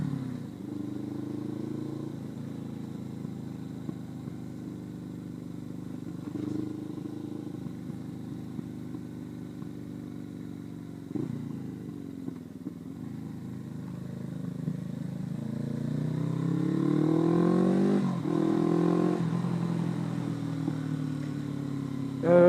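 A Suzuki 500 GSE motorcycle cruises along on a daily commute, its engine hum steady and fairly soft under wind, rising as it accelerates near the end; no talking.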